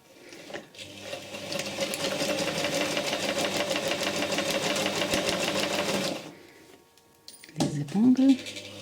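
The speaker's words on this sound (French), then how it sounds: "on va piquer sur la ligne du milieu du dos jusqu'au notre repère, jusqu'à notre fente" A sewing machine stitches the centre back seam of a pencil skirt in a steady, fast, close mechanical whir for about six seconds, then stops, followed by brief handling sounds and a voice.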